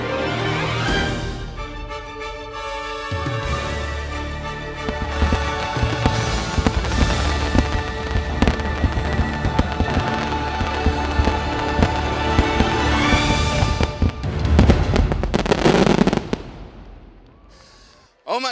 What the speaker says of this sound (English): Happily Ever After, the new fireworks show here at Magic Kingdom and Disney World.